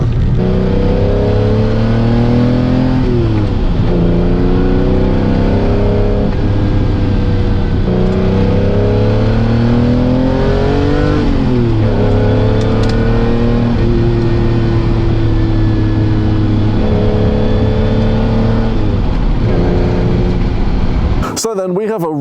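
Aston Valkyrie engine revving loudly and repeatedly, pitch climbing and falling in sustained high-rpm sweeps over roughly twenty seconds, close and dominant with no speech.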